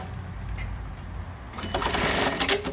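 An Atlas USA AT1906 touch-screen-controlled industrial sewing machine stitches a label, a steady mechanical whir that turns louder and busier halfway through as the needle runs at speed, with no talking.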